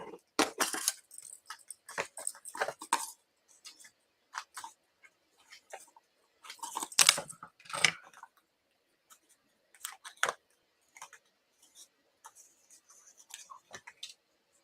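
Scissors cutting up paper pieces for cardmaking at a desk, close and crisp, with bursts of snipping and rustling separated by short quiet gaps.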